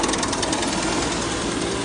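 A grain mill grinding sorghum and rice into flour runs with a loud, steady, dense mechanical roar and rapid rattling, continuous throughout with no pauses.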